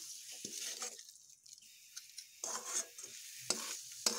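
Giant taro stems are stir-fried in a pan, with a faint, soft sizzle broken by intermittent scraping stirs and spatula taps against the metal, close by and quiet, no talking.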